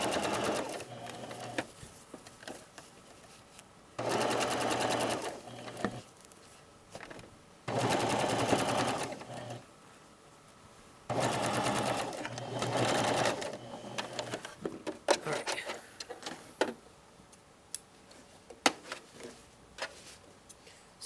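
A sewing machine stitches an invisible patch pocket in several loud bursts of rapid mechanical chatter separated by pauses, ending with quicker short runs and clicks, close and clear.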